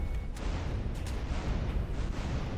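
Dense, continuous rumble of automatic gunfire and blasts from two combat helicopters in GTA San Andreas, loud and unbroken throughout with faint sharper bursts on top.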